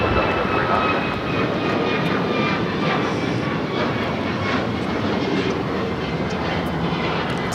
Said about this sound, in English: Next takeoff is Delta Airlines flight 749 heading to Tampa, Florida. It's an A321neo.